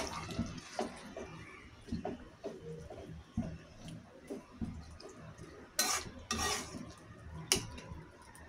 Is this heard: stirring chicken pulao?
yes